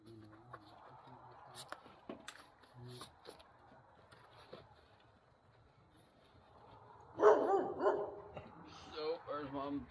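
A dog barks in a quick burst of several sharp barks near the end, after a stretch of quiet shuffling and small knocks, with people talking.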